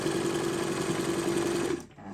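Small sewing machine running steadily as it stitches fabric into a tube for a scrunchie, a close, even whirring hum that stops abruptly near the end.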